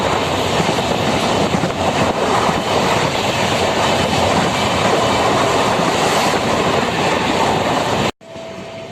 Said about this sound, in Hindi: ट्रेन अभी मधुबनी एंटर कर रही है।